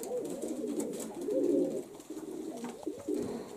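Domestic pigeons coo in a steady, low, throaty rumble that swells for about two seconds and then keeps on in shorter bursts. The birds sound close, with no talking over them.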